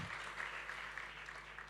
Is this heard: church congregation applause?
yes